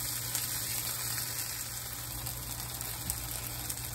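Home-canned garden squash frying Southern style in a pan on medium-high heat, giving a constant soft, fairly faint sizzle and crackle with no talking.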